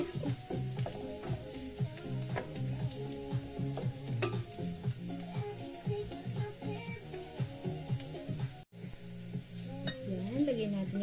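Cabbage fries in a pan with a continuous crackling sizzle and occasional clinks of a utensil against metal. Tonal music or voice-like sound plays underneath throughout.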